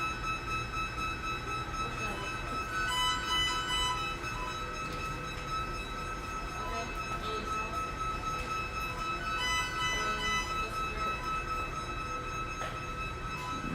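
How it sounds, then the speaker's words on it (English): Electronic beeping from kitchen equipment inside a McDonald's restaurant, steady high-pitched tones repeating over a busy room hum with faint background chatter. "The beeping is common for you."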